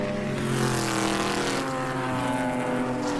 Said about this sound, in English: Just isolate that Aston engine note and make that your ringtone.